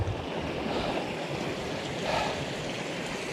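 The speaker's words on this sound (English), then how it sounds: "Water's flowing good." Water rushes and splashes steadily outdoors on Springer Mountain, a constant broadband flowing wash with no pauses.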